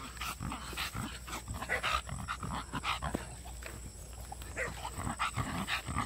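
An exotic bully dog, tired after a hike, pants rapidly and rhythmically at close range for several seconds, steady quick breaths with no talking.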